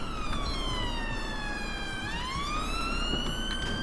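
An emergency vehicle siren wails in the police driving game LCPDFR, a loud steady tone that sweeps down and rises again over a constant engine and road rumble, with no talking.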